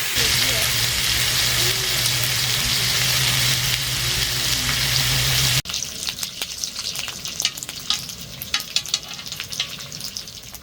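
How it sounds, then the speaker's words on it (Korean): Steady loud sizzling of sausages frying in oil, then a sudden cut to quieter crackling and popping spatters. "칼질을 안낼 시에는 소세지 터짐과 기름튀김 주의해야 될 것 같아요"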